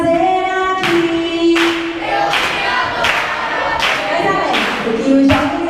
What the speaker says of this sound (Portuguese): Vamos lá, com palmas.